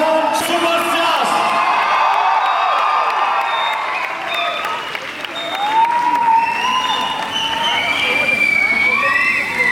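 Crowd applause and cheering at a Thug Life movie promotion event in Trivandrum, a loud, sustained roar of clapping and whoops from a large audience with an announcer's voice over it.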